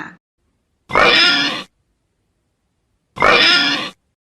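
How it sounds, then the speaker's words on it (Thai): Two pig grunts, each a rough, raspy snort lasting under a second, separated by a pause of about two seconds. "เสียงร้องของ หมูนั่นเองค่ะบูตะนะคะ"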